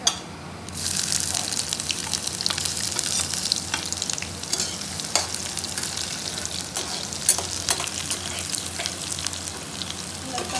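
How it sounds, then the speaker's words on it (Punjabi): Cumin seeds sizzling in hot oil for a vegetable dish, a dense, continuous crackling hiss that stays loud and close throughout, with small pops scattered through it. "ਤੇਲ ਗਰਮ ਹੋ ਗਿਆ ਜੀਰਾ ਪਾ ਦਿੰਦੇ"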